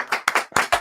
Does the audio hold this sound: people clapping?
yes